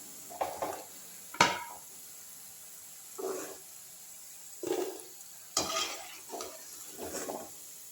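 Crispy cauliflower 65 pieces are lifted from hot frying oil, with scattered metallic scoops and clinks against the pan and short bursts of bubbling sizzle, close by with no talk.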